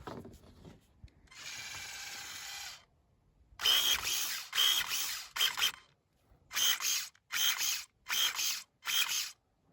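Stihl ASA 85 battery pruning shears running near the mic, with a steady motor whir followed by a series of short, sharp mechanical snips and whirs in a fairly regular rhythm, separated by brief silences.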